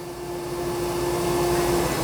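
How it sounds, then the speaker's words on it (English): A Dyson Spot+Scrub AI robot vacuum running in vacuum-only mode with its mop pad lifted, giving a steady, close, continuous whir with a fixed tonal hum and no talk. "it went into a vacuum only event"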